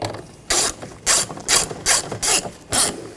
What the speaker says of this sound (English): Put these screws in. Snug these down.